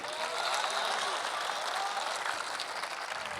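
Audience at a Hanuman Jayanti religious gathering applauding to welcome speakers, a dense steady wash of many hands clapping that holds at an even level throughout, with no talk over it.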